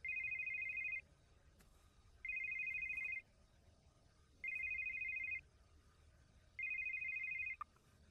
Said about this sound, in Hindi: फोन बज रहा है करण।